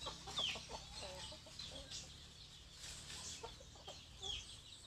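A hen cackles before laying an egg, giving faint clucking calls among other farm fowl at a rural yard, with soft background noise.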